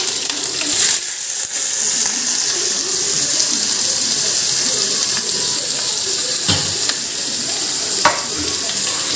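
Chili and onion fry loudly in hot mustard oil, giving a dense, continuous close-up crackle with occasional sharper clinks and stirring scrapes.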